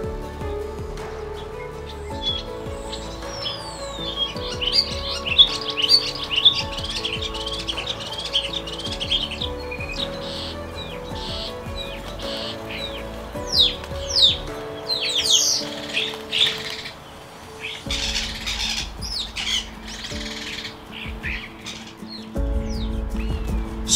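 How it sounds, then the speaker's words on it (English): Starlings call in a busy, bright chorus of whistled trills, squeaks and clicking ticks, overlapping continuously and fairly close, with no voices. "The call of a starling is quite noisy and bright, a vibrant mix of various trills, squeaks, and ticks."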